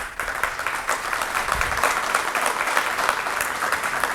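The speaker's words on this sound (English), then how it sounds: "Kindly clap for that." An audience at a startup talk claps steadily throughout, a dense, even applause filling the whole hall at close range.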